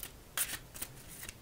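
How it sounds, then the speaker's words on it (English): Bamboo playing cards are side shuffled in quiet, close riffles, with a few quick rattling bursts of clicking slats and brief pauses between them. "let's just throw some side shuffles here"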